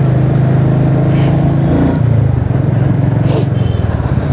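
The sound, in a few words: Royal Enfield Meteor 350 motorcycle engine while riding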